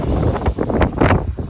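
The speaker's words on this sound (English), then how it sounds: "Sorry for the wind here" Gusty wind buffets the microphone in an open field during a wheat and bean harvest, a loud, rumbling, uneven roar with short bursts, and no voices heard.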